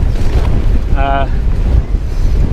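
Heavy wind roars across the microphone while cycling into a headwind on a 40 km training ride, a loud, constant low buffeting with a brief tonal whine partway through.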